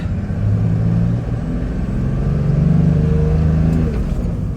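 A 1997 Toyota Land Cruiser HZJ75 engine drones loudly from inside the cab, its pitch dipping and climbing again as gears change.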